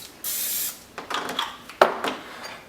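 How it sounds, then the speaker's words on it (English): Pam cooking spray hisses from a can onto a heated pizzelle iron in one short, loud burst, followed by light clicks and handling sounds of the iron. "So I'm going to just spray this with some Pam,"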